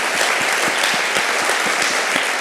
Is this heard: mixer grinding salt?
no